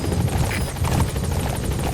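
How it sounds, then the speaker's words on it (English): A support helicopter in the video game Metal Gear Solid 5 hovers close by, its rotor beating in a loud, rapid, continuous thump with a steady engine whine. "Support helicopter has arrived."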